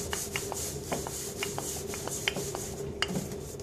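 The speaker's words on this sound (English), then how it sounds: "It's rolling into shape using a rolling pan." A rolling pin rubs and presses keema-filled naan dough on a surface in an Indian restaurant kitchen, with repeated soft scraping strokes and light taps at a steady rhythm, close and moderately quiet.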